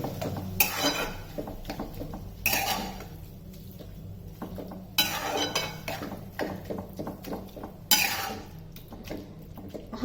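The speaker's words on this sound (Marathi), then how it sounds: "आता हे पुन्हा आपण व्यवस्थित परतून घेऊया" Salted chicken keema being sautéed in a pan, with repeated scraping and clanking of a spatula against the metal pan in bursts, close and fairly loud, over a low steady background hum.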